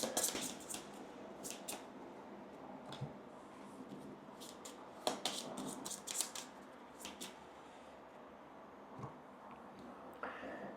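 New cards are shuffled into a Mandalorian Adventures board game deck: scattered soft riffles, flicks and taps come in short bursts between quiet pauses, close and fairly faint, with no talking.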